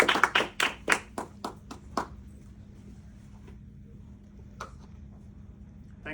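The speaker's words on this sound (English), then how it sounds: "with a round of applause" A small audience claps to welcome the speakers to the stage, a dozen or so distinct claps in quick succession for about two seconds, then a few faint stray claps against quiet room noise.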